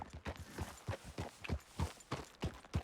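Hooves of a thoroughbred horse in Red Dead Redemption 2 clip-clop in a steady walking rhythm, close and distinct, about a dozen evenly spaced strikes with no talking.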